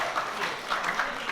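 Brief burst of audience clapping at an outdoor Balinese bondres comedy performance at a village temple, a short soft patter of hands lasting just over a second.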